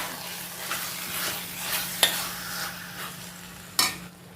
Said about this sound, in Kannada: ಒಂದು ಕಾಲು ಟೀ ಸ್ಪೂನ್ ಆಗುವಷ್ಟು ಜೀರಿಗೆ ಹುಡಿ ಹಾಕ್ತಿದ್ದೇನೆ ಹಾಕಿದ ಮೇಲೆ ಒಳ್ಳೆ ಮಿಕ್ಸ್ ಮಾಡಿ